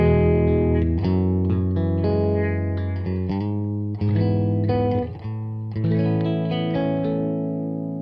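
A Trini Lopez electric guitar on its middle pickup position plays a run of bright, sustained notes and chords through a speaker cabinet, loud and close with a light effects sheen, without anyone talking over it.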